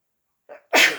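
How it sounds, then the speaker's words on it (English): A single sharp sneeze up close, preceded by a brief quick inhale, then silence. "Sorry, I had to sneeze."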